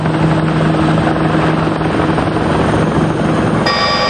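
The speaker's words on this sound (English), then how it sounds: "a helicopter with a tail rotor in a crosswind" A helicopter with a tail rotor flies in a strong crosswind, a loud, steady rotor thrum and turbine whine that continues unbroken for several seconds.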